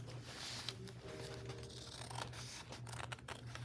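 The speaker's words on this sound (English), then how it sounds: "I'm trying not to cut the tip off of this lace." Scissors snipping lace to trim it for a junk journal, faint close cuts and rustles over a low steady background hum, quiet and intermittent, with no speech.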